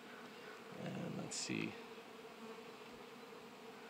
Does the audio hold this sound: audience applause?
no